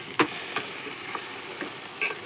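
Fresh gongura leaves tossed into hot oil with turmeric crackle in a soft, steady sizzle, broken by a few light clicks and taps from stirring, with no voices.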